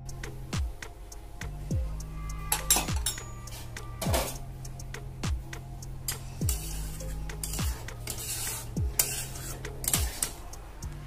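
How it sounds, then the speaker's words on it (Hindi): Powdered milk being mixed into reduced milk in a pot, a spoon making repeated rhythmic ticks and clinks against the metal, roughly once a second, moderately close. "पाउडर मिल्क ले लिया है, मैं उसे अच्छे से पहले मिक्स कर लूँगी।"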